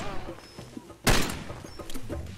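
A single sharp gunshot blast from a firearm in the video game Far Cry 2, loud and close, cutting in partway through over background game noise and low voices.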